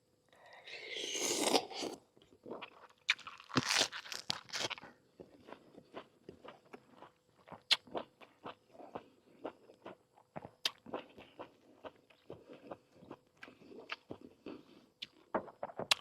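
Close, quiet crunching from chewing crisp squid, with irregular bursts of bites and crackles throughout and louder rustling at the start.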